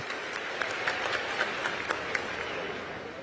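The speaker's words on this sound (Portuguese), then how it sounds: "Quem pode aplaudir o Senhor nosso Deus?" Church congregation applauding during a family pre-congress service, a steady wash of many hands clapping with scattered sharper claps standing out, moderately distant and fairly quiet.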